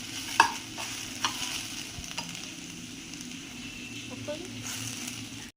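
Grated radish fried in ghee with cashews and raisins, giving a steady low sizzle with a few light stirring scrapes and clinks, close and moderately quiet, with no talking.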